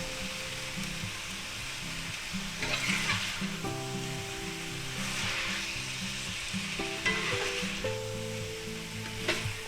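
Garlic and vegetables sizzle steadily in a hot pan for a Vienna sausage stir fry, with scraping stir strokes coming through in bursts over the constant frying hiss.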